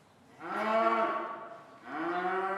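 Two loud, close cow moos on a farm, each a long harmonic bellow with a rising start, separated by a brief pause and no voices.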